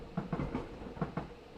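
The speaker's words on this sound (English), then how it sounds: "There goes our friend the train," A train trundles past at a distance, with a steady rumble and a soft, regular clickety-clack of wheels over rail joints, faint and unbroken by voices.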